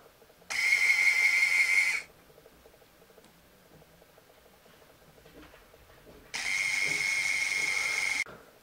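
A small RC Scania R620 lorry drive motor runs straight off a 3.7V lipo battery, giving two steady high-pitched whirring bursts of about one and a half seconds and two seconds, separated by a quiet pause.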